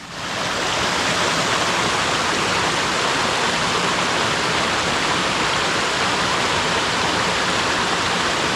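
Creek water flows in a constant, even rush of broadband noise that holds steady and fairly loud throughout, with no voices over it.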